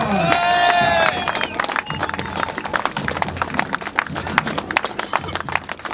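A crowd claps and cheers at the finish of the Ecotrail Paris trail race, with dense, rapid applause under a loud voice announcing over the noise at the start.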